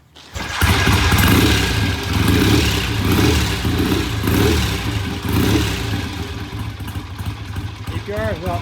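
A 1965 BSA motorcycle engine runs and revs during a test ride, rising and falling in steady surges up close while people talk over it, with the clutch slipping.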